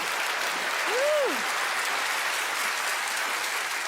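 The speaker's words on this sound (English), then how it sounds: "everyone else, give our stars a round of applause" Studio audience applauding a stage show's stars, a steady broadband wash of clapping that holds throughout at moderate level, with a brief tonal swoop near the start.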